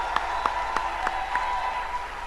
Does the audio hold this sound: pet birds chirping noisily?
no